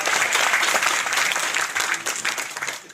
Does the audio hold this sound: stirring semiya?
no